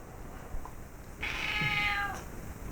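Pet cat giving a single drawn-out meow close by, preceded by faint household rustling.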